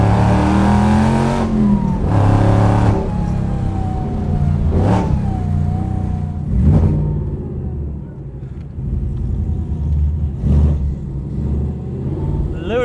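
An American muscle car engine, loud and close, revs in several hard bursts. Each burst has a deep throaty rise and a falling tail, and the engine settles into a rumbling idle between them.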